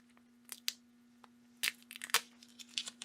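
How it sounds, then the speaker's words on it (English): Adhesive tape backing peeled off during a BougeRV solar panel installation, a series of short crackling, tearing rips in irregular bursts, close and fairly quiet over a faint steady hum. "basically I just peel this tape off the back and put that tape on"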